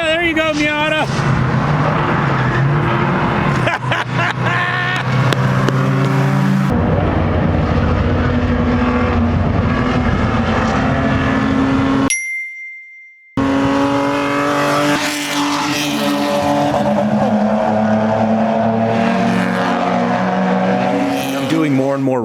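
A small Mazda Miata race car roars at high revs, engine note rising and falling through gear changes, loud and close, broken by a brief moment of silence.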